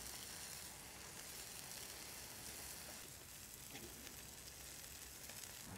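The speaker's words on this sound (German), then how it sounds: "Das heißt, schön anbraten." Continuous crackling sizzle of meat searing on a hot griddle plate, steady and close, with no voices.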